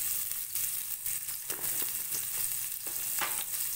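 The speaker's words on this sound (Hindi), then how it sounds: "अब लास्ट सब्जी गोभी, इसे भी हम तल लेंगे, थोड़ा सा नमक डाल देंगे।" Cauliflower fries in a pan with a pinch of salt for veg pulao, a dense, continuous close-up sizzle with occasional brighter crackles and spatters, no voices.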